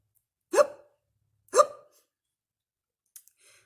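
A voice imitates two loud hiccups, about a second apart, in a Winnie-the-Pooh story reading, followed by a couple of faint clicks.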